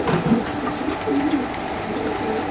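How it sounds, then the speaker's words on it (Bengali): Racing pigeons in a cage, with soft repeated cooing calls close by over a steady background hum. "10 নাম্বার খাঁচা আছে 2টা কবুতর"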